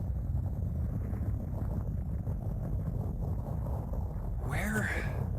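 A steady, shaking rumble fills the opening of the video game 999, a dense low roar that carries on without a break, with a brief brighter sweep near the end.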